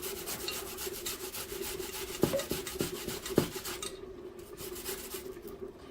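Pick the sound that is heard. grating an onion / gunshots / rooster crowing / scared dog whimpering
grating an onion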